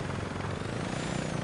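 A steady, loud rotor-and-engine drone of a small helicopter hovering close by in the video game Saints Row 2, continuous and unbroken throughout.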